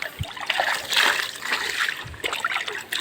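Water from a spring source trickles and splashes steadily in a continuous light stream, with a few brief louder splatters, close by and without talk.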